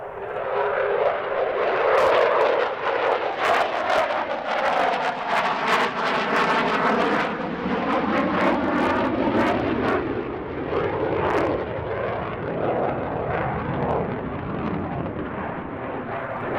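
Su-27 jet fighter with twin Saturn AL-31F engines flying at the Gdynia AeroBaltic airshow, a loud sustained roaring jet with a shifting whine as it passes, dominating the whole stretch with no talk.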